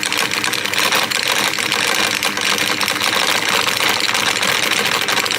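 An aluminium rotor spins quickly above a red AC levitation coil running at 180 volts under 3-phase power, giving a loud, steady mechanical whir with a rattling, gear-like buzz that holds evenly throughout.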